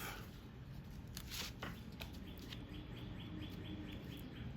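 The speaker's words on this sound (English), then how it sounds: "Do you hear the birds? Birds are excited today." Small birds chirping outdoors, a string of short high tweets repeating fairly close over a steady background hiss, with no talking.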